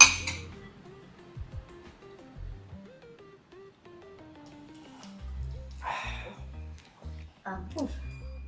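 Glasses clinking together in a toast among friends, a few bright clinks amid nearby conversation and background music.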